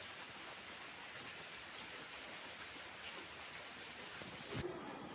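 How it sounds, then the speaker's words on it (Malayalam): Light rain falls steadily, a dense, even hiss of drops on surfaces that holds for the whole stretch, with one dull low thump near the end and no voices. "നമ്മൾ പോവാൻ നോക്കുമ്പോഴത്തേക്ക് ഇതാ മഴയും തുടങ്ങിയിട്ടുണ്ട് കേട്ടോ"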